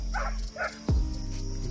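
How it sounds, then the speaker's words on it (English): A dog barks sharply once at close range on a rainy night during an opossum hunt, preceded by two short vocal bursts, with steady rain and insect hiss continuing underneath. "Barking there plenty."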